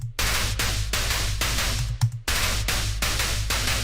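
A heave bass synth patch made in Vital pounds in loud, gritty, distorted pulses, a rhythmic chain of heavy buzzing bass hits with brief gaps between them.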